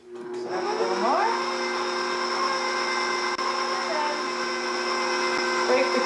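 An electric mixer beats cream cheese icing with powdered sugar and vanilla, a steady loud whirring hum that ramps up at the start and holds evenly throughout, with a slight pitch shift near the end.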